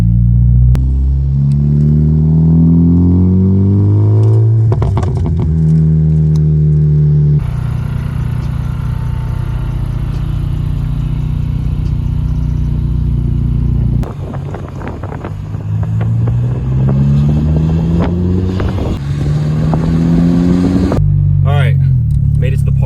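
A Honda Civic Si with a swapped K20C4 engine, which is leaking transmission fluid, drives along. The engine climbs through several loud revving pulls with pauses between gear changes, and wind buffets the microphone.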